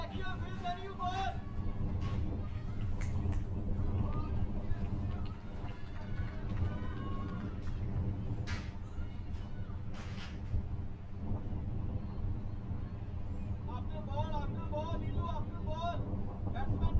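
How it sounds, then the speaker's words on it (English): Wind blows across an outdoor cricket ground during a women's T20 league match, a steady low rumble of microphone buffeting that runs throughout, with faint chirps and voices in the background. "And the wind playing havoc with the fielder's attire."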